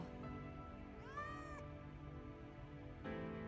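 Close, clear cat meow in a video game: a single rising-then-falling cry near the middle, over a steady tonal hum of game music or ambience.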